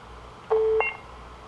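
A single short touch-tone DTMF dialing beep from a telephone, clear and close, lasting about a third of a second over a faint background hum, with no talking.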